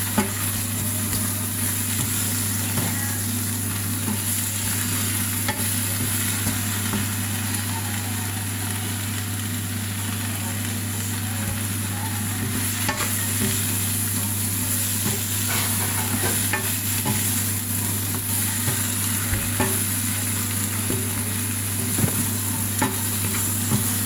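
Shrimp frying in a pan for ginataang hipon, stirred steadily, with a continuous loud sizzle and scraping that carries on alone without talk throughout.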